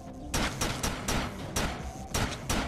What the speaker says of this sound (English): I need some gunfire, but it might be in the distance.